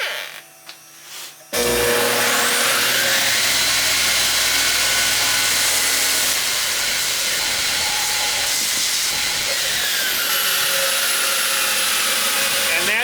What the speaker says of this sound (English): Big belt sander, belt grinder, and I'm just gonna finish up these contours.